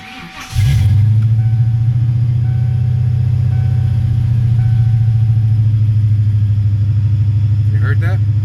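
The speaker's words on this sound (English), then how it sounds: "It's misfiring. Yeah, something's wrong with the engine" A 1998 Ford Mustang GT V8 starts and idles roughly with a misfire, a loud close low rumble holding steady with an uneven pulsing beat, and brief voices near the end.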